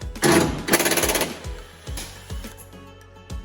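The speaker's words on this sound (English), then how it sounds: "That's what I like about this impact. You can control the speed" An impact wrench loosens dash bolts on a wrecked 2018 Ram 2500, firing a couple of long rattling bursts followed by several short, sharp hits spaced out in a workshop.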